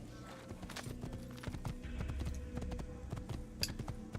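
A white horse's hooves clip-clop in a steady trotting rhythm as it rides off in Assassin's Creed, moderately loud, with game ambience behind.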